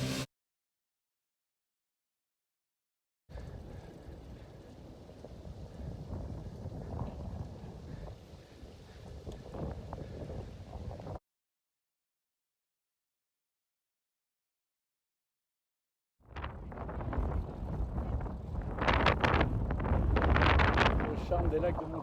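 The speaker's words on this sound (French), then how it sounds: "il y a un vent défavorable depuis le pied" Headwind roars across a microphone while cycling up the mountain road to the Petit Saint-Bernard pass, coming in two loud gusty bursts separated by silent gaps.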